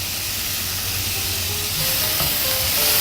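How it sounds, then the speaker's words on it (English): Mince with garlic and basil sizzling steadily in a frying pan, a close, continuous hiss and crackle of frying meat that grows slightly louder toward the end, with no talking. "We're going to put a little bit of garlic into the pan with the mince"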